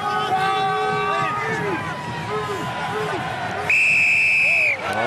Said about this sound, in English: Once again, the referee's whistle prevents the ball being played.